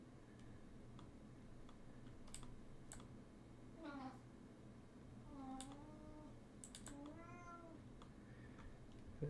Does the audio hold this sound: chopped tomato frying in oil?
no